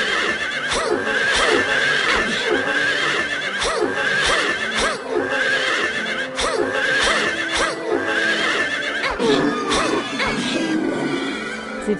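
Horses in the video game Silent Hill 3 neigh and whinny again and again, loud and close, with hoof clip-clop mixed in across a dense, continuous scene.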